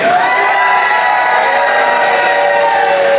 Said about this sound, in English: If you are rooting for Alex T to win this, make some noise